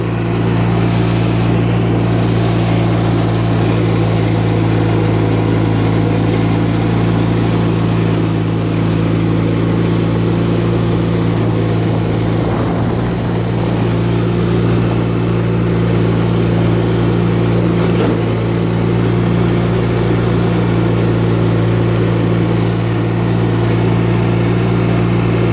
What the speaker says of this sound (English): Transmission doesn't really sound that good in any gear anymore